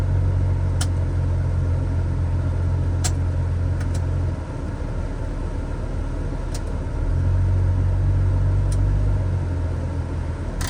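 A 1993 VW Corrado SLC VR6 engine idles with the AC on, a steady close rumble whose low hum shifts in pitch partway through before settling back, with a few faint clicks on top.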